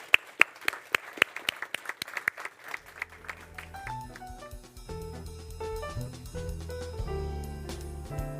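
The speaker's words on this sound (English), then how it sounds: "A round of applause, please." Applause from a conference audience at the close of a development economics panel: about three seconds of sparse, sharp claps, then music with sustained tones takes over while a few claps persist underneath.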